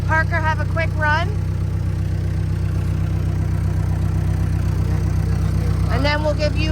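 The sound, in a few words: tractor engine running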